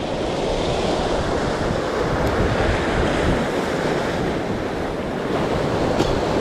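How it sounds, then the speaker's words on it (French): Sea waves break continuously on a rocky French shore while fishing for squid and cuttlefish from the bank, a loud, steady surf wash mixed with wind buffeting the microphone, no talk. "Il y a des belles vagues"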